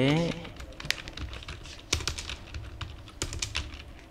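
Keys clatter on a computer keyboard in irregular bursts of close, crisp clicks, while a voice is heard briefly at the start.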